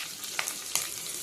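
Garlic and curry leaves frying in a pan for mandakki chuduva, a brief close sizzle with a couple of sharp crackles.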